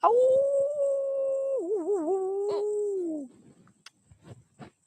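A dog howls on command in one long, sustained, wavering howl, close and loud, that wobbles in pitch before trailing off, followed by a few faint clicks and sniffs.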